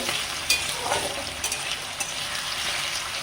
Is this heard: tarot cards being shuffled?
no